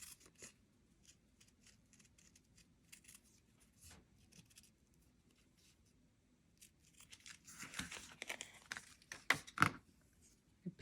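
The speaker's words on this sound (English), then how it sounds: "just some small, very sharp scissors are your friend" Quiet, crisp snips of small, very sharp scissors cutting through fabric for a golf head cover, soft at first, then a quicker, louder burst of cuts near the end.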